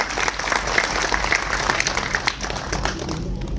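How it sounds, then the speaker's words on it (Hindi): Loud, dense applause from a crowd at a memorial gathering for politician Manoj Sansare, sustained and even throughout. "जोरदार तालियां"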